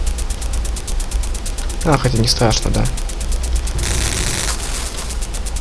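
Gunfire from the Jungle Strike video game comes as a rapid, steady stream of shots throughout, with someone talking briefly over it and a louder burst of noise near the end.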